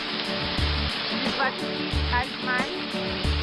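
A continuous rushing roar of flowing stream water fills the scene, loud and near, with faint voice fragments barely emerging above it.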